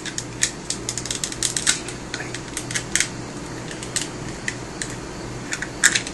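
Plastic parts of a Transformers R.I.D. Optimus Prime toy are flipped and folded out, giving a string of sharp, close clicks and snaps at an irregular rhythm over faint background hiss.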